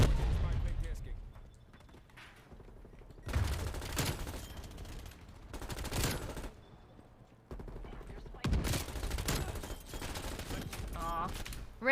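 Bursts of video game gunfire come in several dense clusters separated by quieter gaps, loud and close, with some talking mixed in between the volleys.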